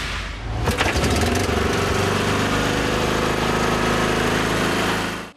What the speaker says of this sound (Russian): подключают к генератору турбинку и приступают к ликвидации лишних конструкций на дороге